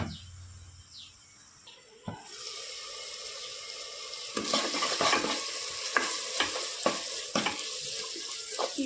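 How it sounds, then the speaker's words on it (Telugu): Masala paste cooking in oil under a lid for a mushroom curry, heard as a steady low sizzle with intermittent stirring and clinking knocks, following a quieter opening with a few faint clicks. "ఈ మసాలా పేస్ట్ అంతా నూనెలో మగ్గుతుంటే"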